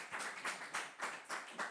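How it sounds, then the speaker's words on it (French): A quiz-competition audience claps in a short, regular rhythm, about seven distinct claps in under two seconds, fairly faint and even, with no talk over them. "On les applaudit quand même"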